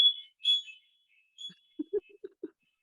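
Smoke alarms chirp indoors in short, faint, high-pitched beeps, two or three brief tones followed by a few soft low knocks.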